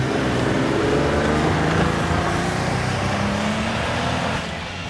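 Steady, loud engine drone of a jeep climbing a hill in four-wheel drive, working under load, continuous and close, easing slightly at the end.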